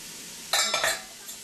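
Soup stirred in a pot, a couple of quick scraping, clinking strokes of a utensil against the pot lasting under half a second, then quiet.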